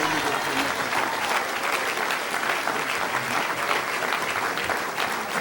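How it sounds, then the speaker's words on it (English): An audience in Savannah, Georgia gives a speaker a long, sustained round of applause, loud and dense throughout, with crowd noise mixed into the clapping. "give him another round of applause."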